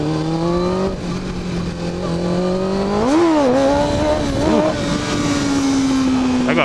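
A motorcycle engine revs hard during a wheelie, a loud steady drone that swoops up sharply, wavers and settles into a sustained high-revving note.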